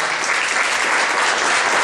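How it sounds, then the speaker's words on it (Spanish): An audience at a school maintenance event in El Seibo applauds a district director, a dense, steady burst of clapping from many hands filling the room without pause. "Un aplauso."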